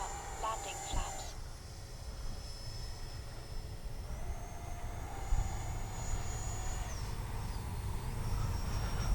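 An FMS Futura V3 electric RC jet on a 6S battery whines steadily overhead as it comes in to land with flaps down, its engine tone rising and falling over wind noise in the background.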